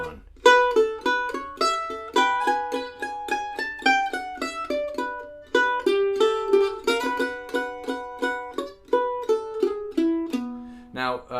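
Mandolin or fiddle melody played in closed position, a steady run of bright plucked or bowed notes with clear rhythmic attacks, moving through a phrase over several measures and ending on a low note, played alone without talk.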